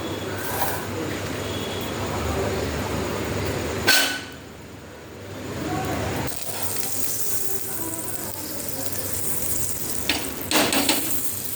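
Butter sizzling in a little white oil on a hot tawa where bhola fish is being fried, a steady close frying hiss with a brief louder burst partway through, and no talking.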